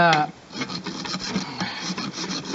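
Rasp filing the front of a horse hoof to round off new growth before gluing on a hoof boot: close, rough scraping strokes in quick repeated rhythm, fairly loud, following a brief tonal squeak at the start.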